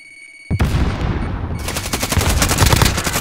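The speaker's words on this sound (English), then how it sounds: "Like, two shots and I was down." Rapid automatic gunfire in a Call of Duty match, loud and continuous, with a fast rattling stream of shots that starts abruptly and keeps going to the end, with no speech over it.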